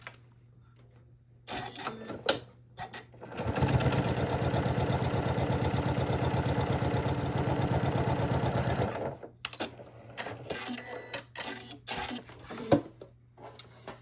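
A sewing machine stitches down a folded fabric strap in one steady, rapid mechanical run lasting several seconds, close and loud, framed by brief handling clicks and fabric shuffling before and after.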